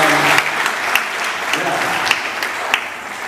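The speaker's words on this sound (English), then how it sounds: "So let's have a round of applause for all the sponsors." An audience at a book launch event applauds, with steady clapping and a few louder claps standing out. The brief burst is heard close, and there is no voice over it.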